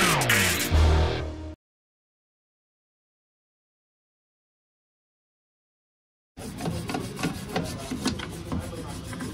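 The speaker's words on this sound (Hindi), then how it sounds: "देखिए ब्रश से यहाँ पे अंदर में रगड़ के कपड़ा लेके उसको क्लीन कर दीजिएगा" A brush scrubs inside a part of an LG front-load washing machine being serviced, a close rasping rub in a burst, then silence, then steadier scrubbing.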